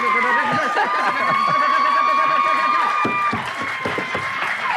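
An audience in a studio applauds and cheers loudly and continuously, with clapping dense throughout and voices calling out over it, easing slightly toward the end.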